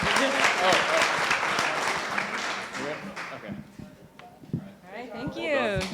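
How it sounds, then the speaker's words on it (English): Audience applause at the close of a startup pitch during a 2017 California demo day, loud at first and thinning out after about three seconds, with speech-like voices and scattered claps carrying through to the end. "Round of applause."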